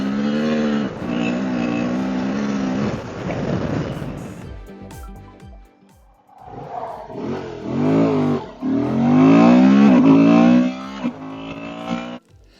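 Honda Transalp 750 adventure motorcycle with a quick shifter, accelerating hard on a low-traction surface: loud engine revving rises in repeated surges with brief gaps at gear changes, close and with no voice.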